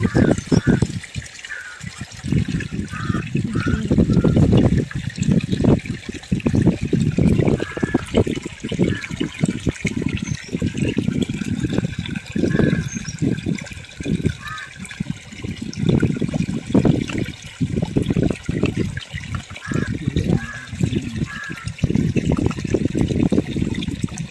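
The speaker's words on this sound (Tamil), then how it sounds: "அதையும் அப்படியே ஜல்லாலே போட்டு ஜெலிச்சிங்க" Gram flour is shaken through a sieve at home while making kurkure snacks, giving a steady, close rustling and pattering hiss with rhythmic shaking pulses that run for the whole stretch.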